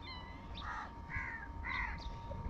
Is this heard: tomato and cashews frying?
no